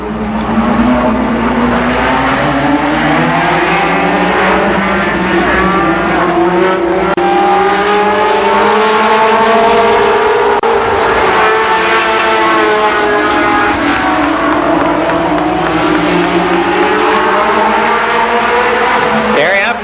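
Super late model race cars rumble around Columbus Motor Speedway in a pack, a loud, steady engine drone with shifting revs under a voice that carries on throughout.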